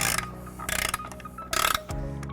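Ratchet with a 15mm socket tightening bolts on a 2016 Tesla Model S during trailer hitch installation, rapid close clicking in short repeated bursts with brief pauses between strokes.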